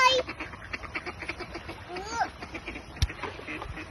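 Ducks quack nearby in short, nasal, repeated calls, mixed with splashing and background noise while people talk over them.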